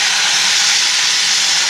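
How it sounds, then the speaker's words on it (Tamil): Mushrooms sautéed in hot oil in a pan, a loud, steady, close sizzle and hiss that stays even throughout, with no talk. "இதுலேயே நம்ம காளானை போட்டு நல்லா வதக்கி"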